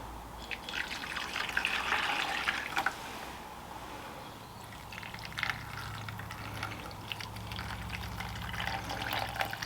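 Stock pours steadily into a Ninja cooker pot for a roast turkey with stuffing, a continuous close trickle and splash that swells and eases without pause.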